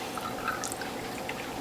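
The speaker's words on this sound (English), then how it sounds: "Now I'm topping my bottles off with distilled water." Distilled water pours steadily into juice bottles, a close, continuous splashing trickle with faint dripping accents.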